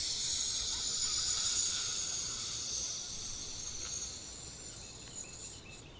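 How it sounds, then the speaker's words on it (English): A person breathing out hard through the teeth to empty the lungs during a breathing exercise makes a long, steady, sharp hiss that slowly fades, heard alone and close. "Hiss. Expel everything from the lungs."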